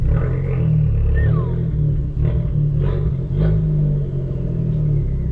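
An Abarth 595's engine rumbles with a deep, steady growl, heard from inside the car, swelling slightly as it revs.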